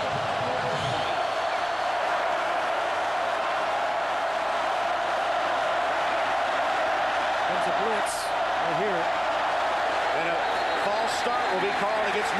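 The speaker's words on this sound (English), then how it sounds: "There's the crowd" A college football stadium crowd roars in a steady, dense wash during a Michigan State versus Notre Dame overtime game, loud and continuous, with a commentator's voice faintly layered over it.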